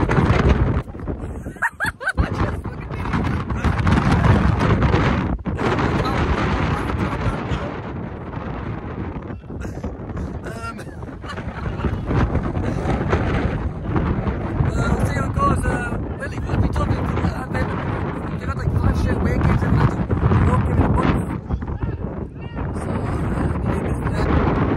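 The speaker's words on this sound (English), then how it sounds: "I don't know if you can hear me very well over the wind, but it's very windy today." Heavy wind roars across the microphone almost continuously at a Whitley Bay vs Redcar Athletic football match, with gusty swells and dips throughout.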